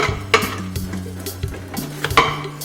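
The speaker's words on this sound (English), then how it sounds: "Mix it real good. Make sure I get all the garlic all in there." Oxtail and garlic get stirred in a hot pan, with rhythmic scraping and knocks of a utensil against the pan over a soft sizzle.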